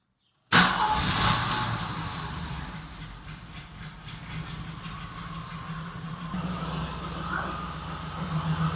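Old Jeep CJ, parked for 29 years, bursts into life after a brief silence, then runs on with a loud, steady rumbling idle for several seconds.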